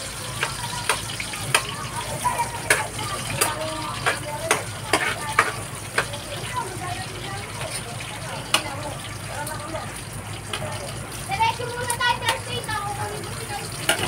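Crushed garlic frying in hot cooking oil for adobo, a steady sizzle broken by frequent clicks and scrapes, while voices and children's chatter carry on in the background.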